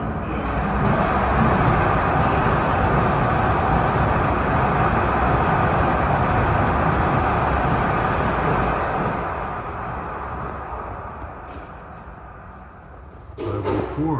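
An LIRR commuter train from Ronkonkoma to Penn Station rumbles past at Elmont, a loud, broad roar of wheels and cars that slowly eases and fades, with a sharp clatter near the end.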